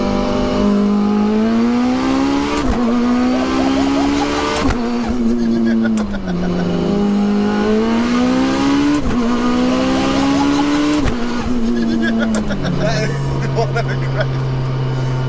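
A 1000whp sequential Mitsubishi Evo 9 pulls hard through second gear on full boost, its engine note climbing loud and continuous with sharp sequential shifts and a harsh rasp, close up and dominating throughout.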